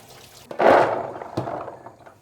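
Soaked chickpeas rinsed under cold running tap water: a sudden gush of splashing flow that starts loud, then eases off into a steadier trickle with a brief second surge, heard close up and without talk.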